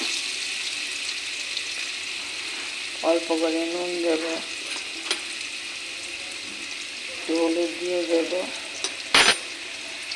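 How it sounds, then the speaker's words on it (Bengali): Cut potato pieces fry in a pan, a constant close sizzle running throughout, while someone speaks in two short stretches and a sharp clink of a utensil comes near the end. "আলু ঠুমো ঠুমো করে কেটে ভাজা করে নেব।"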